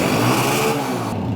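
A used Honda Deluxe 125 motorcycle with alloy wheels revs up close, a loud, buzzing engine note that holds, then drops off sharply at the end.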